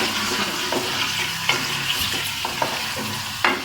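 Masala frying with yogurt for chicken biryani makes a dense, close sizzle with frequent scraping and stirring strokes against the pot, loud and continuous, with no voices.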